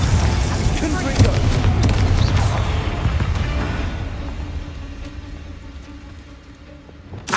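In Hogwarts Legacy, a Confringo spell erupts with a heavy, booming explosion amid battle effects, its loud rumble gradually fading away over several seconds.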